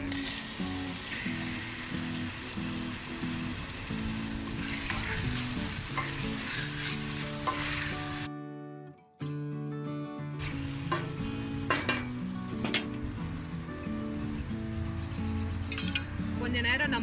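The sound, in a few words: tomatoes sautéing in pan for pepper crab curry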